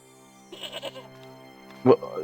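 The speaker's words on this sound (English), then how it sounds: "did I just hear a goat?" A goat bleats in the Broken Sword point-and-click adventure game, with a wavering call early and a louder, sharper bleat near the end, over a quiet game background.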